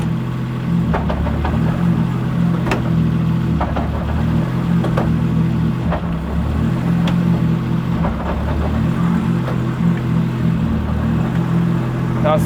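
1000HP+ 2JZ-swapped BMW with a ZF gearbox and ACT twin-disk clutch, a steady loud engine drone with faint repeated clicks and shift changes, and a voice talking over it.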